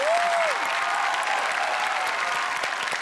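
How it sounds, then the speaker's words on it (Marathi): A studio audience at a Marathi TV comedy show breaks into loud, steady applause that fills the whole stretch, dense and even from start to finish. "जोरदार टाळ्या झाल्या पाहिजेत सई तामणकर साठी."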